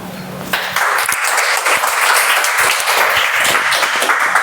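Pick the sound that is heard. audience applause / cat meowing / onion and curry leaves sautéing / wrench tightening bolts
audience applause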